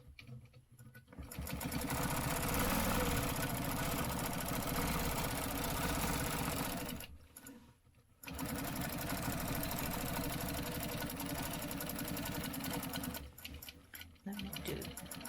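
A sewing machine stitching the border seam line of a quilt runs in long continuous bursts of rapid whirring stitches, pausing briefly between runs, close and steady.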